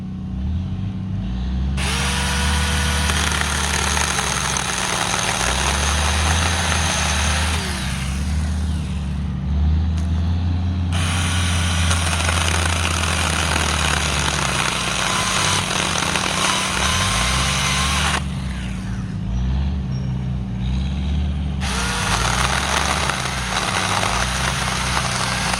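A Saker mini electric chainsaw runs in repeated bursts, its motor whining up to speed, holding, then dropping off in short pauses between runs, loud and close with no talking.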